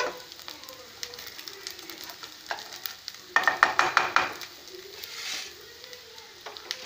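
A spatula scrapes the sides of a pan of dry-roasting coriander seeds, rapid rhythmic scratching bursts in the middle over a soft background crackle, close and fairly loud, followed by lighter stirring.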